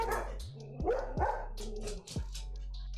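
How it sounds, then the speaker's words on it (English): Dogs bark at close range with several sharp, loud barks spaced irregularly over a steady low hum, with a few yips and whimpers between them. "my dogs barked"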